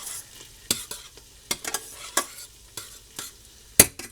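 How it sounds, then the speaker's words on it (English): Canned peas being stirred in a pan, a quiet background sizzle broken by several sharp spoon scrapes and knocks at an irregular pace, close by, one louder clank near the end. "Stir my peas."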